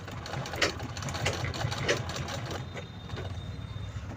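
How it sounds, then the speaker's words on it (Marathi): Sewing machine stitching a cloth bag, running a line of stitches back along one side: a close, steady mechanical whirr with rapid needle clatter and brief louder bursts, alone without talk. "आपण परत या साईडने अजून शिलाई लावून घेत आहोत."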